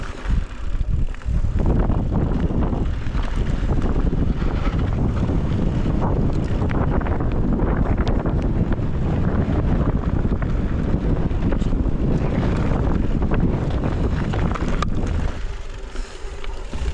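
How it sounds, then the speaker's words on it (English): Strong wind roars continuously across the microphone on an exposed mountain pass along the Tour du Mont Blanc, loud and unbroken for nearly the whole span, easing only at the very end. "It's very windy right here."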